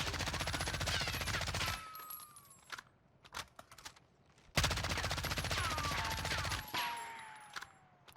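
Suppressed M13 rifle in Warzone fitted with Commando foregrip and long barrel, firing 300 Blackout rounds: two sustained rapid-fire bursts, loud and close, separated by a short pause with scattered shots and clatter.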